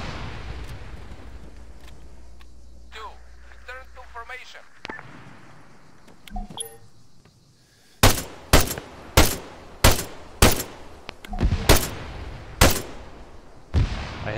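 A video game battle with gunfire and grenades: a muffled blast and scattered clatter early on, then a loud steady series of sharp shots at about one per second, with talk heard alongside.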